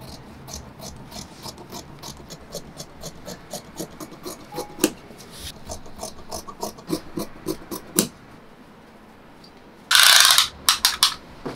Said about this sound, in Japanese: こう切っていきます。